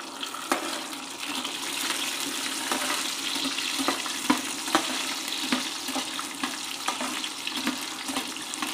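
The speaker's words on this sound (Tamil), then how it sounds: "பூண்டு போடுறேன். வெங்காயமும் போட்டுறேன்." Garlic and onion fry in a pan for a curry leaf kulambu, a steady close crackling sizzle with scattered sharp pops and faint stirring clatter throughout.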